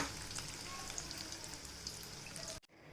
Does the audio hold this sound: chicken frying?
yes